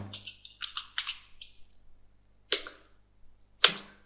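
Text being typed on a computer keyboard for AutoCAD: a quick run of close, crisp key clicks, then two louder isolated keystrokes after a pause.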